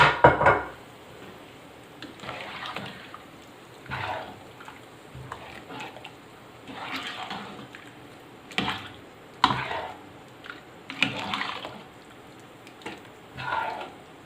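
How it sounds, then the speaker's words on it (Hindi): Boiled chickpeas poured with their cooking water into a pot of fried masala for Lahori chanay, giving scattered splashes, clinks and sloshing bursts close by against a quiet kitchen background. "अब इसमें मैं ये चने शामिल कर रही हूँ। जो हमने बॉयल किए हुए मैं उसी पानी के साथ इसमें इनको शामिल कर दूँ।"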